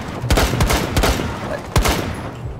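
Rapid gunfire in Rainbow Six Siege on the Kanal map as a player shoots out jammers, a handful of loud, sharp shots in quick succession with short gaps between them.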